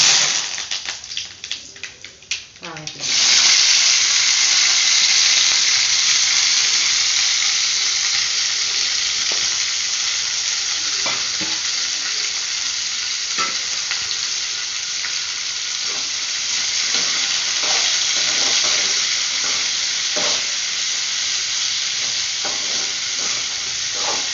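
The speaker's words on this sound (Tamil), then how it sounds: "பாவக்காய் பொரியலுக்கு கடுகு உளுந்தம்பரு போட்டுக்கலாம் இந்த கருவேப்பிலை" Mustard seeds, urad dal and curry leaves for a bitter gourd stir-fry hit hot oil with a sudden loud burst of sizzling, then settle into a continuous close hiss with scattered pops and crackles.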